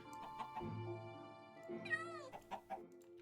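A cat meows in Minecraft, a single rising, drawn-out call in the middle, with other soft game sounds and faint clicks around it.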